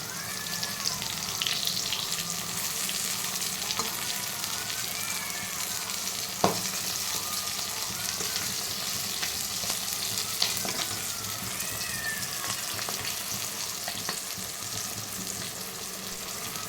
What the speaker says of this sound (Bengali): দুটো বেগুন নিয়ে ভাবলাম এগুলোও ভেজে ফেলি